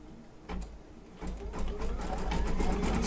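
An embroidery sewing machine stitches down a patchwork quilt block, its rapid mechanical whirr starting quietly and building to a steady loud run, close up; no talking.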